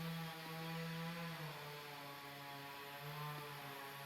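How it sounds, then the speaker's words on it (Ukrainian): A gasoline chainsaw runs steadily at a garden plot, used for clearing brush near a ditch, as a faint, distant, continuous droning whine with no talk over it. "Там, де працює бензопила."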